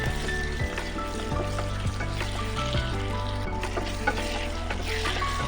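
Potatoes, salt and chopped spring onion sizzle steadily in a pan, a dense, continuous frying hiss at close range with a musical tone running underneath.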